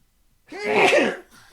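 One loud, close sneeze bursts out after a moment of quiet, trailing off into a soft breath.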